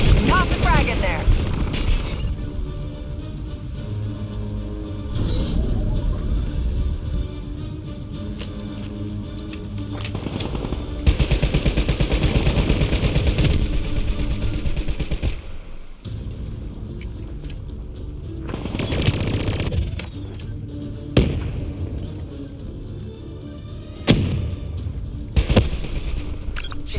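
Turret gunfire in Call of Duty: Black Ops 3 rattles in long bursts amid mechanical clanks and booming impacts, loud and close, broken by brief pauses and sharp single blasts with game voices occasionally speaking.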